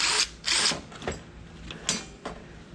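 Power tools from an abandoned storage unit are tested in brief, sharp whirring bursts, four or five short runs separated by pauses, with no talking.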